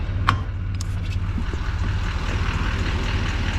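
A skid steer engine runs at a steady idle, a continuous low rumbling drone with a faint sharp clank near the start, heard up close on a construction site while clearing land for a new road.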